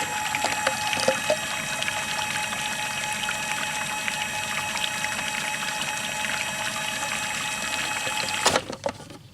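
Water pours steadily in a continuous splashing stream into homemade buttermilk paint, close by, ending with a few clinks and a short clatter.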